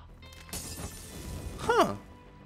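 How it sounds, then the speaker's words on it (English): An oil lantern shatters in Hunt: Showdown: a sharp glassy shatter rings out after a couple of dull thuds, brief and crisp, in a quiet game setting. "you still have a little bit of sound by breaking the oil lantern"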